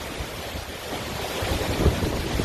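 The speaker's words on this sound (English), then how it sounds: "blowing winds, blowing rain, rain coming in from the side" Strong wind and blowing rain lash down during flooding, a dense, steady roar of gusting air and driving rain that swells slightly toward the end, with no voices.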